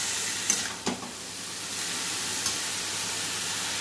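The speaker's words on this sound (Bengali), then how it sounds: "এবার এর মধ্যে আমি টমেটো কুচিটা মিশিয়ে দেব।" Chopped tomato is stirred into lentils in a hot pan, giving a steady sizzling hiss with a few brief scrapes of a spoon near the start, close and continuous.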